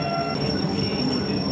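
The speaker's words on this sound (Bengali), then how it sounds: "ট্রেন চলে গেছে, এখন অ্যানাউন্স করে।" A train rolls past a railway station platform as a steady, loud rumble of wheels and rail noise, with no voices.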